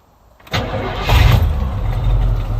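A carbureted car engine, primed with a few pedal pumps, cranks and catches with a sudden loud rumble that holds rough and uneven for a couple of seconds, close by with no talking.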